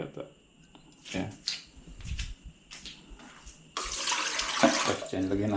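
Water poured or running from a tap into a container, a steady close splashing rush that starts midway and continues to the end, after a stretch of people talking and handling things.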